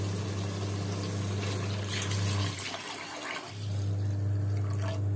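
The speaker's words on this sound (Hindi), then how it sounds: "अब हम इसमें पानी मिला लेंगे।" Water is poured into a pan of toasted rice for a vegetable pulao, giving a steady, close liquid rush that briefly dips halfway through and then resumes.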